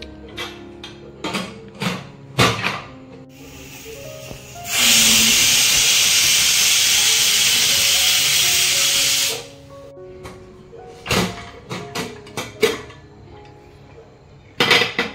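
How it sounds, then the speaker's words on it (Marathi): A pressure cooker holding sode bhat lets out one loud, steady steam whistle lasting about five seconds. Sharp clinks of utensils come before and after it. "याच्या कुकरला आपण 3 शिट्ट्या करून घेऊ"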